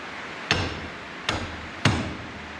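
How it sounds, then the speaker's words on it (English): A rubber mallet taps on macerator parts during a rebuild: three separate dull knocks spaced evenly less than a second apart, close and fairly loud over a steady background hum, with no talking. "I have a rubber mallet for that. Give them a tap."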